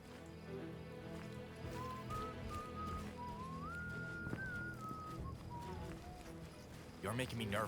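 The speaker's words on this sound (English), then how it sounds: "You're making me nervous with that whistling." A video game character's wavering, tuneful whistle drifts up and down over a steady low background rumble, with a brief clattering burst near the end.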